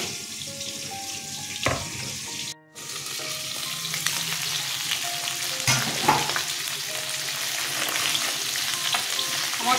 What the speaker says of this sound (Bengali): আমার সব মাথা ভাজা হয়ে গেছে, উঠিয়ে নিচ্ছি।